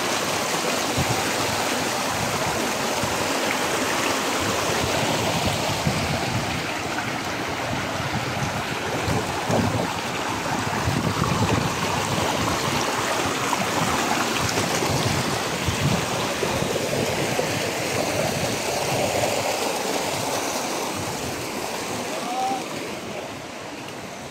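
River water flows steadily for the whole stretch as a loud, continuous rushing wash, with some wind buffeting mixed in.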